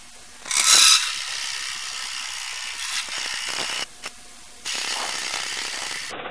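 A Woodcut bowl corer cuts into a wooden bowl, probably green wood, on a lathe. A loud scraping burst comes first, then a steady high grinding hiss that briefly stops and starts again. No one speaks.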